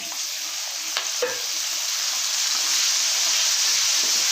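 Tomatoes fry in a pan for a Rayalaseema-style fish curry, giving a continuous close sizzle with a couple of sharp utensil clinks near the start, and the hiss grows slightly louder toward the end.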